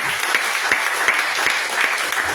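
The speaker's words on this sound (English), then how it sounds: "Give a hand clap to the Lord." Church congregation clapping their hands together during a sermon, a steady dense wash of applause with sharper individual claps standing out at a regular pulse, sustained and fairly close throughout.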